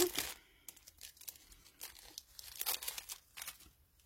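Plastic wrapping crinkling and tearing as a small package of chipboard craft embellishments is opened, a few crisp rustling bursts, close by and fairly quiet, with no speech.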